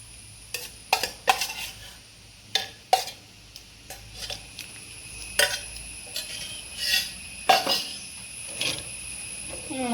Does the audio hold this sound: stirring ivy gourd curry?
yes